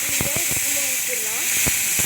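Tamarind water sizzles loudly and steadily in a hot pan with green chilies and asafoetida, a constant hiss with scattered pops and crackles, while someone speaks faintly.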